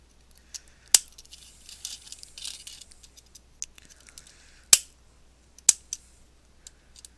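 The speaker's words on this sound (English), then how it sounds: "using a X-Acto knife, always be careful with the knife, or you could also use a file, trim away" An X-Acto knife trims leftover plastic from a Bachmann Thomas model train car, making a few sharp, close clicks and snips spaced apart over faint scraping, with no talking.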